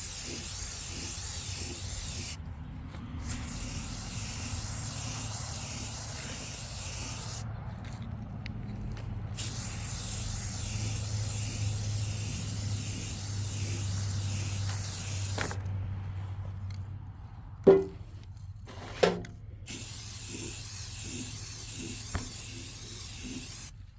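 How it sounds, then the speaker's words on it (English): Chalkboard paint sprays in long continuous hissing bursts onto a vintage chrome canister, broken by short pauses and a few sharp clicks of the nozzle near the end. "So I'm going to now put the chalkboard paint on here"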